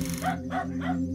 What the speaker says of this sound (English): More barking can be heard off-camera